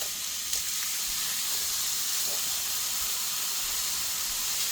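Steak searing on a griddle gives a steady, close, loud hiss of sizzling fat and juices that runs unbroken throughout, with no talking.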